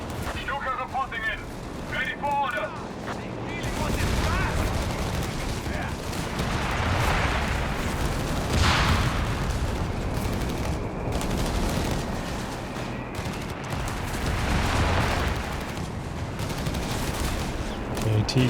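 Battle in Company of Heroes 3, a 2v2 match with Panzer IVs, AT guns and rockets, producing dense rolling gunfire and explosions that swell and fade over many seconds, with a commentator talking over it throughout.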